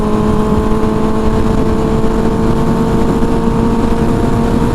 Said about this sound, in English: Yeah, she's singing along, doing good. These old Hondas can run like this all day long.